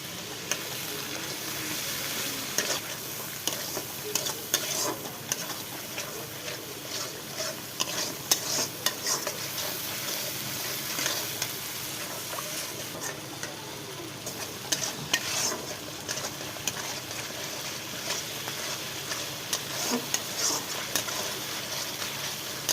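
Spice paste with turmeric is stirred and fried in oil in a kadai for green banana fish curry, a continuous sizzle broken by repeated scraping strokes of the spoon, close and steady throughout.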